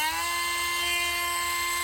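A rotary tool whines at around 25,000 RPM, a loud, steady high-pitched tonal spin that holds constant and close throughout.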